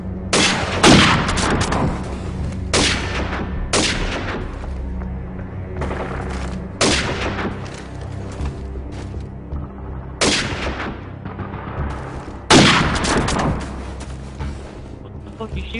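Video game gunfire in an online match, loud bursts of automatic shots and heavy booms arriving in clusters separated by brief lulls, with a player voice talking in places.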